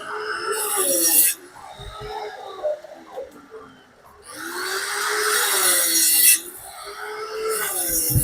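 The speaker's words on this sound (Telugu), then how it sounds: "మొత్తం కటింగ్ చేసిన తర్వాత దాన్ని చెక్కుతున్నారు" A wooden main pole for the Khairatabad Ganesh mandapam being worked by hand, giving long scraping, rasping strokes in two loud bursts with a quieter stretch between, close by.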